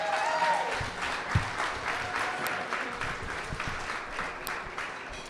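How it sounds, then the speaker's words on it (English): An audience at an outdoor Iowa river-cleanup kickoff event applauds Polk County, a steady wash of clapping from many hands that gradually fades over several seconds. "Can we have a big round of applause for Polk County,"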